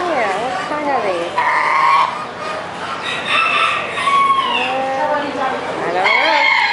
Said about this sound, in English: Couple nice geese, ain't they?